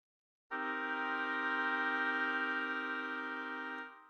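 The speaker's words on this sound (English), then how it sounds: "And the minor chord, it sounds like this." A minor chord with a minor seventh, sounded on a keyboard-like instrument in a beginning theory lesson: after a brief silence one chord enters and rings evenly for over three seconds, then tapers off.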